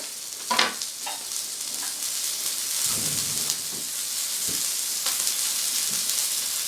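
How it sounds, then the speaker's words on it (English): Gyro meat sautés in a pan on a stovetop, giving a steady bright sizzle and hiss with occasional scraping stirs and clicks of a utensil against the pan, close and continuous. "saute on the stove to get that nice crispy flavor"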